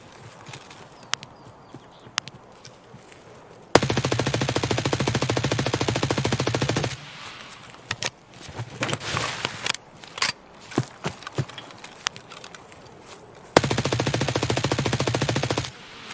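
Automatic gunfire in the video game Escape from Tarkov comes as two long, loud sustained bursts. Scattered single shots and thuds fall in between.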